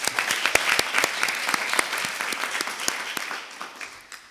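Applause rises in a municipal council chamber as a new member is elected by acclamation, a room of hands clapping steadily at moderate distance before thinning and fading toward the end.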